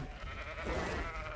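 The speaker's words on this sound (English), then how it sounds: "Sheep!" A sheep bleats in the game Ark: Aberration, a single wavering, drawn-out bleat over a steady background bed of game ambience, fairly close with no talk.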